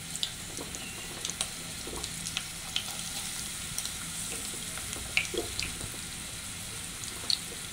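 Chopped onions sizzle in a hot pan for a shrimp dish. A faint, steady frying hiss runs throughout, broken by scattered small crackles and pops.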